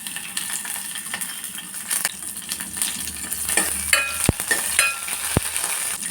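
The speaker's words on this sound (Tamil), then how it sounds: "எண்ணெய் காய்ச்சதும் கடுகு, உளுந்தம்பருப்பு, ஒரு 10 போல் வெந்தயம், கடுகு, ஜீரகம் இதெல்லாம் போட்டு போடுவோம்." Mustard seeds, urad dal, fenugreek and cumin sizzle in hot oil for tomato rasam, a continuous crackle dotted with sharp pops and a couple of metallic clinks from the pan.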